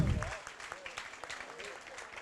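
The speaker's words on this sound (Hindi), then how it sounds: "तालियां बजाकर अनुमोदना कर दें।" An audience at a Jain religious discourse claps together in approval, steady dense applause heard close up while a voice carries on over it.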